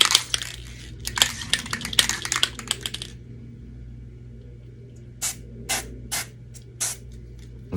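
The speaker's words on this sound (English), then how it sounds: "But I use a gloss cherry red spray paint for that." Gloss cherry red spray paint hisses from an aerosol can in several short close bursts, dense at first and then a few spaced sprays after a pause, over a low steady hum.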